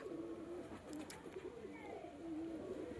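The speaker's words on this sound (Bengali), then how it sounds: "আর এটা মাদা পায়রা" Soft, low pigeon cooing repeats in short phrases against a faint background hiss, fairly quiet and close by.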